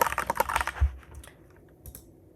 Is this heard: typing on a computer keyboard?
yes